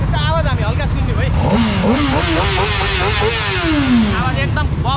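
A Honda CBR 600 sport motorcycle engine revs hard close by, its pitch climbing and falling in a rising, wavering whine that holds several seconds before dropping away, with a loud rumbling idle underneath.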